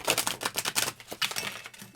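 Slightly slippery tarot cards being shuffled, giving a quick run of close, crisp riffling clicks and flutters that slow toward the end.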